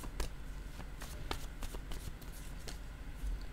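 Tarot cards shuffled and drawn by hand during a reading, a string of soft crisp riffling snaps and flicks at close range over a quiet room.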